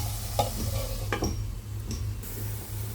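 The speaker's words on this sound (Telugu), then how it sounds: "ఆనియన్స్ అనేవి బాగా ఫ్రై అవ్వాలి." Onions frying in a pan make a soft, quiet sizzle over a low steady hum, with a few sharp stirring clicks and scrapes.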